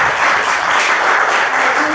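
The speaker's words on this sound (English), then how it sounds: "Please, let's all give a warm applause." An audience at an Ethan Casey event gives a warm applause, a close, thick and steady wash of clapping throughout.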